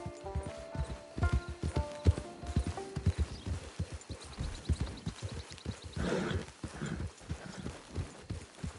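Horse hooves clip-clop in a steady, close rhythm in the Red Dead Online video game, trotting along on their own with a brief soft swell of ambient sound partway through.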